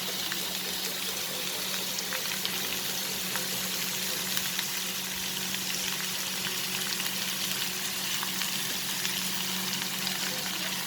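Chopped onion and garlic sautéing in a pan over a medium flame, a soft continuous sizzle with light crackles, faint and steady throughout.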